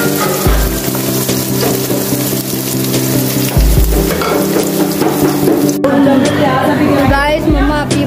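Onions sauté in a pan for beef qorma, giving a steady loud sizzle and frying crackle with stirring scrapes, while people talk over the cooking.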